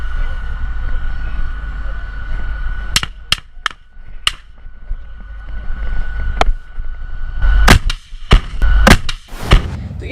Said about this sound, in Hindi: टैंक पर जो है वो अल यासीन एंटी टैंक गोले भी दागे जाते हैं।